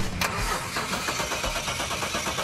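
An old car that has sat unused for a long time cranks and catches, its engine sputtering into a rough, uneven idle with loud, irregular chugging close by.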